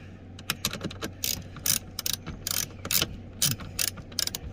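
A ratchet tightens 13 mm bolts on a seat from a 2006-2008 Dodge Ram, giving close, rapid bursts of clicking in uneven runs with short pauses between strokes.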